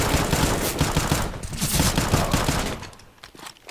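Rapid automatic gunfire from a CS:GO match, a dense, loud burst of overlapping shots lasting a few seconds before tapering off.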